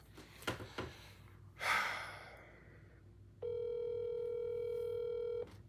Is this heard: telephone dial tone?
yes